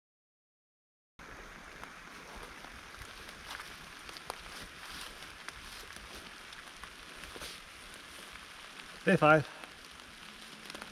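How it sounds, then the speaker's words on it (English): Rain falls on a swamp campsite with pines, a soft, steady patter throughout. A person speaks briefly near the end, and a short close rustle or creak is heard. "Raining as usual."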